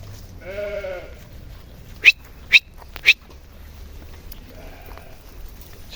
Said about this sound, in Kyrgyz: Чекчеген козулар.